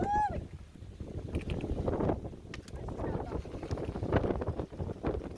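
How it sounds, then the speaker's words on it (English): Strong wind buffets the microphone in a continuous low roar, with faint voices and footsteps underneath, on a mountain trail in Maine's 100 Mile Wilderness. "It is crazy windy."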